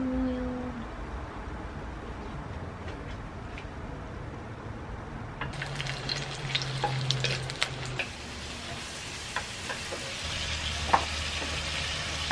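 Vegetables for pakbet fry in oil outdoors, a soft sizzle under scattered clicks and stirring clatters that grows busier and louder about halfway through.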